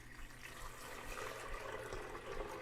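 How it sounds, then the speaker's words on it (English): Water poured from a container into a blender holding almonds, a soft, steady trickling splash heard close up and fairly quiet, with no talking. "I'm gonna add some water."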